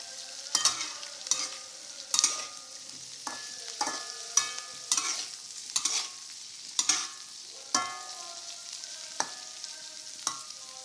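A chili mixture with green chilies being stirred in a pan for a Banjar tedas anis dish: a soft sizzle broken by a rapid series of sharp, close spatula scrapes and clacks against the pan, roughly once a second.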